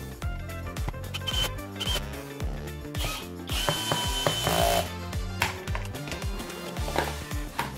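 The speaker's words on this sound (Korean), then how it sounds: "케이스를 닫고 나사를 설치해서 고정합니다." A power driver turns screws to close the case of a DIY side-mounted battery pack, giving repeated short whirring bursts with ratcheting clicks and small knocks. The bursts are close and fairly loud and come one after another.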